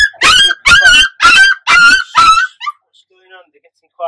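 Five-week-old lurcher puppies in a shed yap and bark in five loud, evenly spaced bursts close by, followed by a few faint whimpers and squeaks as the noise dies away.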